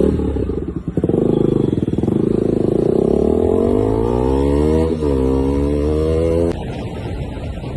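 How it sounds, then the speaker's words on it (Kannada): A KTM Duke motorcycle, fitted with an aftermarket exhaust, pulls away and revs up on a test ride, its engine note climbing steadily through the gears, loud and close, then dropping back near the end. "ಈಗ ಡ್ಯೂಕು ಟೆಸ್ಟ್ ಡ್ರೈವ್ ಹೋಗುವ."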